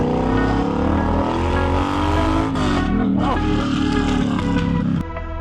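A loud, throaty Triumph Bobber motorcycle exhaust rumbles up close, revving and roaring steadily before the engine note drops near the end.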